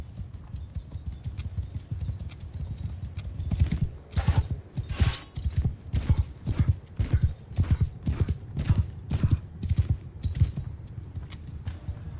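Cavalry horses gallop in the Mount & Blade II: Bannerlord video game, hoofbeats building from scattered clops into a loud, rapid, rhythmic thunder of many riders close by.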